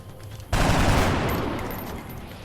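A single loud rifle shot fired by a soldier in the turn-based strategy game XCOM Long War, a sharp onset followed by a long decaying rumble and tail, with no talking.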